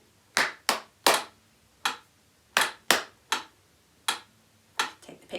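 Hands clap a rhythm of about a dozen sharp claps in a string-class music lesson in 4 time, spaced unevenly with short pauses, close and crisp in an otherwise quiet room.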